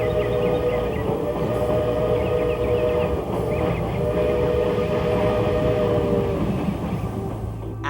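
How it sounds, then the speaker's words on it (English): A Baldwin steam locomotive rumbles steadily while its shrill, high-pitched whistle sounds in long sustained blasts, fairly loud over the continuous running noise, with no voices. "the Tweetsie due to the high-pitched shrill whistles of the locomotives"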